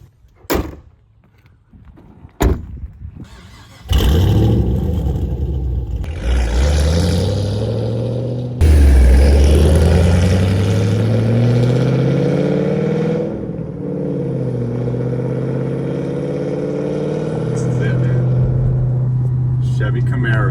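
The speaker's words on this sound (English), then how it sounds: "It's a supercharged V8." A tuned 900 hp supercharged V8 in a 2013 Chevy Camaro ZL1 with manual transmission, starting with door thuds, then a loud sustained engine drone that rises in pitch as it revs, with speech over it.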